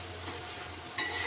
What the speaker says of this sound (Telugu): అంతా ఇలా మిక్స్ చేసుకుందాం